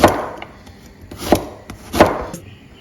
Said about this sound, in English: cutting our okra.